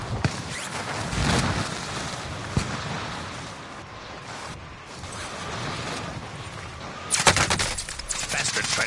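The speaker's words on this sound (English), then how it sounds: "Bastard trying to shoot me!" Bursts of video game gunfire crackle through a dense, noisy battle mix, with rapid volleys early on and a sharper, louder flurry of shots near the end.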